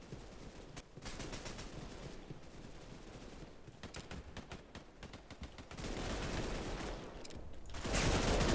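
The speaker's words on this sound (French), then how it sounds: "ce sniper là, il a un recul" Rapid bursts of gunfire from a first-person shooter with unusual weapons, including a sniper rifle with heavy recoil, dense crackling shots in clustered volleys that swell louder near the end, no voices.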